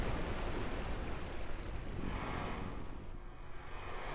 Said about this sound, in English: we'll be splashing down any second now